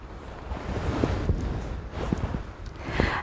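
Seaside waves and wind on a shoreline, a continuous rushing roar with soft surges and occasional splashes, close and steady, with no voices.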